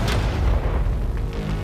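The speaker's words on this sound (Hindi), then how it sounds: "ये 5 टैंक्स पैसों पर निशाना लगाकर 20 राउंड फायर करने वाले हैं।" Loud, dusty outdoor scene where a tank fires its first shot at a target: a dense low boom fills the whole stretch, with rumbling, roaring body and no clear speech over it.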